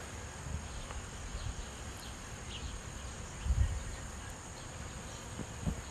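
Honey bees crowd a busy hive after a split, giving a faint, constant hum and buzz with occasional closer fly-bys, heard quietly in the background.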